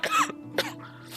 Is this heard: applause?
no